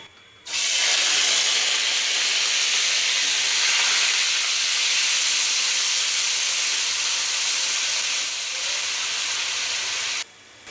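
Onions frying golden in a pan for a besan mangolian gravy, a loud, steady close sizzle and hiss that starts abruptly, runs unbroken for about ten seconds, then cuts off, with no talking.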